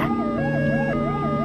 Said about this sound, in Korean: 1963년 12월 8일 도쿄의 밤거리를 질주하는 앰뷸런스가 있었다.